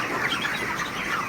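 Broiler chickens twenty-eight days old on a poultry farm, a steady dense chorus of clucking and soft chirping from many birds close by, continuous throughout with no talking.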